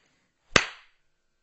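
A single sharp hand clap, close and crisp with a quick decaying tail, standing alone in silence.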